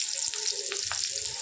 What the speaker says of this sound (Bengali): পেঁয়াজ ভাজা হতে থাকুক